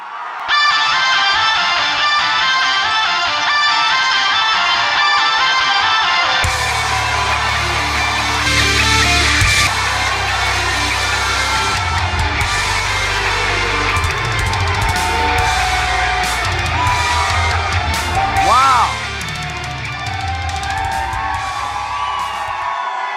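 A large rally crowd in North Carolina cheers and whoops for Rudy Giuliani, a sustained roar with shouts rising above it, loud and continuous throughout with music underneath.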